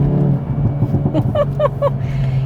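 A Hyundai i30N engine drones steadily and climbs in pitch as it accelerates, close and loud, with no voices.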